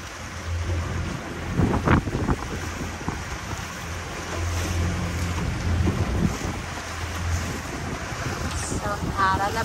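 A small boat moves over open water with wind buffeting the microphone, low engine drone and splashing waves, while people talk intermittently and a higher voice chirps near the end.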